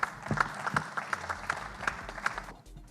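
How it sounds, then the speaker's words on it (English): Scattered applause from an audience at a tech forum, uneven claps rising and thinning out before fading near the end. "So let's give them a round of applause."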